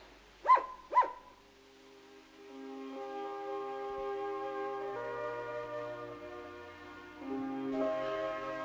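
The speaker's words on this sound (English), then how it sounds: "gave a dangerous-looking leap, barked and followed his master" Two sharp dog barks close together, followed by soft sustained tonal music that continues to the end.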